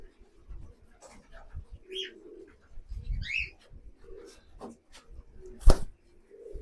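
Pigeons in a loft give a few soft coos and rustles, close by, with scattered handling noise and one sharp knock near the end.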